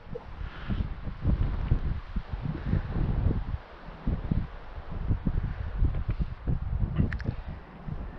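Wind gusting over a lake in the taiga, with rumbling buffets against the microphone that rise and fall in uneven bursts, loud and close, alongside faint rustling.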